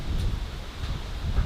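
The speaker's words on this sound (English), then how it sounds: "it's very windy, so the microphone's probably picking up all that wind." Strong outdoor wind buffets the microphone, a continuous low rumbling roar with gusty swells throughout and no speech.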